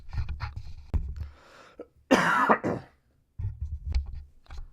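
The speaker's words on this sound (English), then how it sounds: "Sorry, I had a cough." A single harsh cough bursts out loud and close after a stretch of talking, then a pause before the voice resumes.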